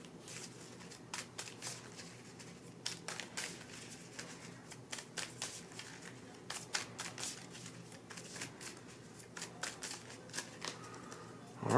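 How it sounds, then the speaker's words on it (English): A deck of cards for the Marvel Champions card game being shuffled by hand, a run of crisp riffling bursts and soft taps repeating at close range over about twelve seconds with no talking. "we'll shuffle our deck up"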